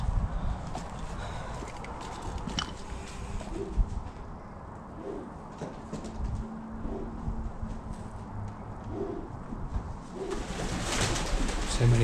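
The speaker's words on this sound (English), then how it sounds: "So many pigeons." Pigeons coo on and off in an abandoned Price & Kensington pottery factory, their soft, throaty calls spread across a dozen seconds over a hollow, cluttered background with faint shuffling steps.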